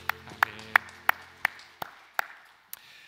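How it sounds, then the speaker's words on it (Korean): A church congregation claps together in unison during a Sunday worship service, giving about eight crisp, evenly spaced claps over a low hum before trailing off. "다시 하나님 앞에 감사의 영광의 박수 올려드리겠습니다."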